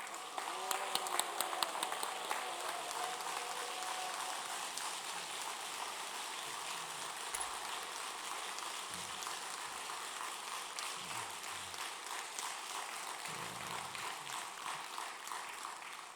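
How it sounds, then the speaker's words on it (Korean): A church congregation at a Korean revival meeting in Los Angeles applauds and cheers to welcome the pastor, a steady, distant wash of clapping and shouting that holds without a break. "두 발은 동동 구르고 입은 함성을 지르시고 손은 손뼉을 치면서 우리 목사님 모시겠습니다"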